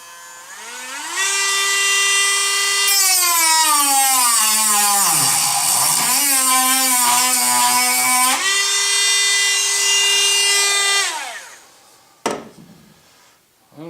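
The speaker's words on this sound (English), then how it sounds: "I'm going to take the same drill, same Dremel that I used." A Dremel rotary tool drills into the rear deck of a 2015+ Mustang with a loud, steady high-pitched whine that dips in pitch under load midway, then winds down to near silence with a brief knock at the end.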